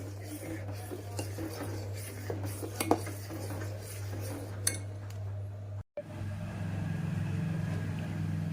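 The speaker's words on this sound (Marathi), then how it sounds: "सुरुवातीला त्याला कालवतच राहावं लागते, नाहीतर मग त्याच्यामध्ये गुठळ्या बनतील" A spoon scrapes and clinks against a cooking pot as fruit custard is stirred on a stove, light irregular taps over a steady low hum that briefly cuts out.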